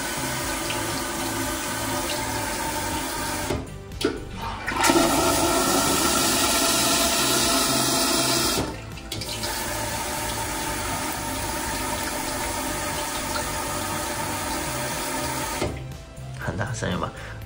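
A smart toilet runs a full siphon flush, a steady rushing and gurgling of water broken by two short pauses. A hum that sounds like a pump runs underneath, and the sound is moderately loud and close.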